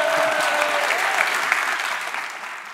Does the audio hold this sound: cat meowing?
no